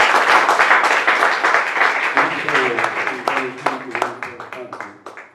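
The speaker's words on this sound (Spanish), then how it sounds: "primero tenemos que aplaudir nuevamente a este día" An audience claps at a tango music event, dense applause at first that thins into scattered individual claps and fades, with a voice talking beneath it.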